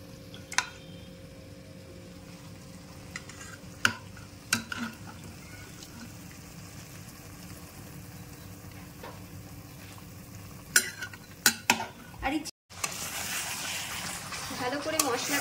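Boiled chicken stir-fried in spice paste, making a low steady sizzle with a few sharp scrapes of the spatula against the pan, a brief dropout, then louder sizzling at the end.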